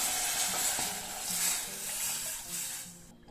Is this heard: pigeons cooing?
no